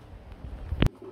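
An Indian Luton pigeon, a single male, gives a short coo close to the microphone, followed by a sharp, brief burst of sound from nearby.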